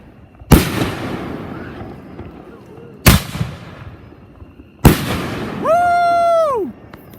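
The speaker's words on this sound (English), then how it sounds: "I welcome to you all for the Fireworks Show" Three sharp, loud firework bursts crack at intervals of a few seconds, each with a decaying tail, and the last is followed by a long rising-and-falling whistling screech, close and outdoors at a fireworks show.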